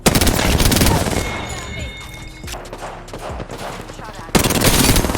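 Loud, dense automatic gunfire in the battle-royale video game Apex Legends, with sustained rapid bursts, a short lull filled with lighter shots and clatter, then another heavy burst, and a voice speaking under it.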